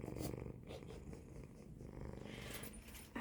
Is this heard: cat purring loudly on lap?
yes